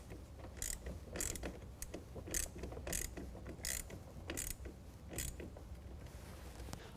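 A ratchet clicks in a steady run of about eight evenly spaced strokes as a bolt is tightened during installation of a Retrax IX tonneau cover on a 2019 Chevy Silverado, close and fairly quiet, with no talking.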